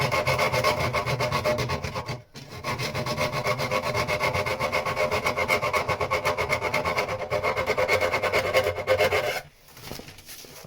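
Hand sanding scrapes rhythmically across the underside of a wooden boat deck, a loud, close rasping of rapid back-and-forth strokes with a brief pause early on and another near the end.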